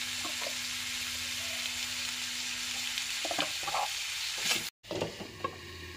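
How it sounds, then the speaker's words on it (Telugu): Broad beans fry in a pan with a steady, close sizzle while a utensil scrapes and stirs them in a few short bursts, with a brief gap in the sound. "చిక్కుడుకాయల్ని ఈ విధంగా మధ్య మధ్యలో తిప్పుతూ బాగా ఫ్రై చేసుకున్న తర్వాత"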